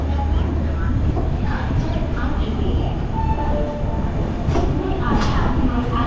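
Passenger train on the Konkan Railway pulling into Panvel station in monsoon weather, with a steady rumble of carriages and rail noise, scattered metallic squeals and clacks, and faint voices under the din.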